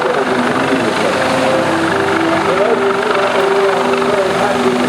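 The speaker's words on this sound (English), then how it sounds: "they are followed up by the rescue helicopters that will take injured survivors back to shore" A US Coast Guard HH-65 Dauphin search-and-rescue helicopter at the Thunder Over the Boardwalk airshow, its loud, continuous rotor and turbine drone holding steady close by, with a voice faintly talking underneath.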